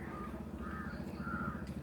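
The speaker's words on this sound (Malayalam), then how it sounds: "കാക്കകളും പ്രാവുകളൊക്കെ ഉണ്ട്." Crows caw near a rooftop where birds gather to feed, a few faint rasping calls in short bursts over steady low background noise.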